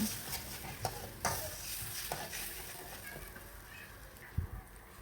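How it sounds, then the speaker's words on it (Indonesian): Spice paste is stir-fried in a pan, with a soft, steady sizzle and occasional scrapes and taps of a utensil against the pan, close and fairly quiet, with no talking. "Ditumis-tumis bumbunya ya teman-teman sampai berubah warna agak kuning keemasan"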